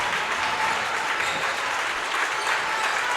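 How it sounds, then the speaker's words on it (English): Presque Isle basketball fans cheering on their team at a high school boys game at Houlton, a loud, steady crowd roar with clapping that fills the gym without a break. "You can hear the Presque Isle faithful trying to cheer on their team."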